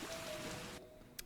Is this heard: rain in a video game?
yes